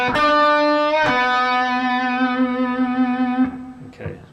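An electric guitar plays a blues rock lick in B, a sustained bent note ringing for a few seconds after a sharp pick attack, clear and close with no talking.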